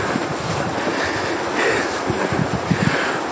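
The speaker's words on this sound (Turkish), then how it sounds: "Fazla rüzgar var. Duyuyorsunuzdur herhalde. Rüzgarın sesini." Strong wind blowing through a snowy Finnish forest, a continuous roaring rush with gusty swells, close to the microphone and buffeting it, with no voices.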